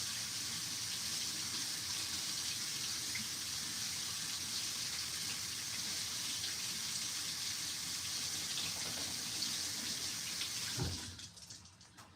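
Tap water runs steadily into a sink while grated potato is rinsed to wash off starch, a constant close gush that cuts off near the end.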